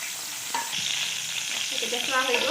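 Prawns sizzle steadily in hot oil, a dense bright crackle that stays close and even throughout, with a few faint stirring clinks near the end and no voices.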